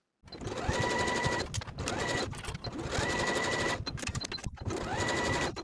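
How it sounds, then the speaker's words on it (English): Sewing machine stitching narrow zigzag side and shoulder seams on a tank top, in three or four loud close bursts of rapid rhythmic stitching separated by short pauses. "Then I'm going to sew both of the side seams and both of the shoulder seams to that narrow zigzag at 1/4 inch along that raw edge."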